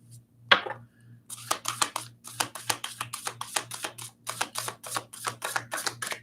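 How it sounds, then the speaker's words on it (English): A rapid series of crisp, clicking taps as tarot cards are shuffled, close up after a sharp initial snap, over a low steady hum. "We'll do one more shuffle."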